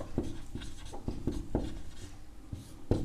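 Chalk or marker taps and strokes on a board as a maths problem is written out, a series of short sharp scratches at an uneven pace, close and clear with no talk.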